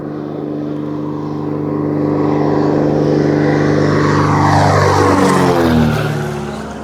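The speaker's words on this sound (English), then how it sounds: "Our plane is here." Propeller floatplane arriving in northern Manitoba to collect a fishing party, a loud steady drone that swells as it draws near, then a falling pitch sweep as it passes close by.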